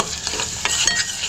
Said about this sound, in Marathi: मसाला जरा फ्राय करून घेते